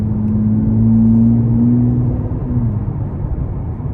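A 2025 Nissan Z engine in sport mode, a close steady drone holding a pitch then dropping as it eases off, with road rumble underneath and no talk.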